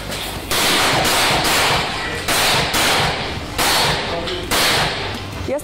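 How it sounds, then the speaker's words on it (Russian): A Saiga 340 shotgun, slightly modified and fired at a rapid-fire pump-class shooting match, booms in several loud, sharp reports at roughly one-second intervals, each followed by a short decay. "Я стреляю с 340-й Сайгим"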